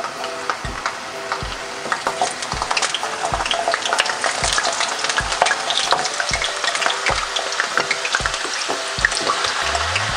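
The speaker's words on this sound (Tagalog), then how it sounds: "Ngayong mainit na po yung ating mantika, ay pwede na nating ilagay itong ating patatas" Potatoes fry in hot oil alongside onion, garlic and ginger, a loud, continuous close-up crackle and hiss punctuated by regular low knocks of a utensil against the pan, with no talking.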